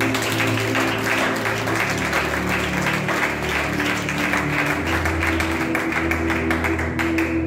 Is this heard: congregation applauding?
yes